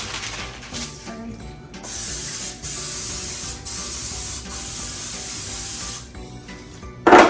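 A long steady hiss of cooking spray onto an 8 by 8 inch square baking pan, broken by a few brief pauses, ending with a louder clatter.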